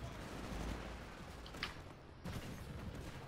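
Shotgun fire in the Titanfall video game: a dense, noisy burst of gunfire in a busy battle mix, with a couple of sharp, close cracks standing out partway through.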